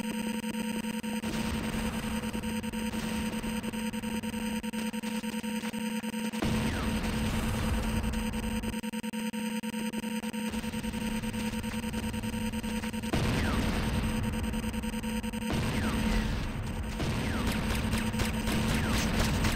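Dense, continuous gunfire and explosions in the game Renegade as a GDI Weapons Factory comes under attack, a busy cacophony of overlapping shots and tonal alerts that swells in bursts throughout.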